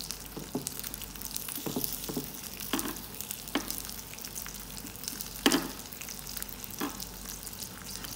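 Chicken sizzles steadily on a newly heated electric automatic rotisserie grill, with a continuous crackling fry texture and scattered sharp pops and clicks as the pieces are turned.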